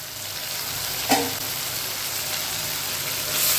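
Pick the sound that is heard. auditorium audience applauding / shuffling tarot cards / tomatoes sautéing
tomatoes sautéing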